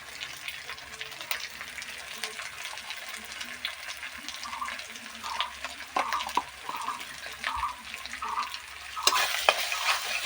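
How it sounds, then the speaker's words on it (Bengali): Spice masala with turmeric and salt for a mutton curry is stir-fried in a pan. It makes a faint, close sizzle with soft scraping stirs and small taps, and the sizzle grows a little louder near the end. "এইভাবে আরো দুই এক মিনিট কষিয়ে নেব মশলাটা"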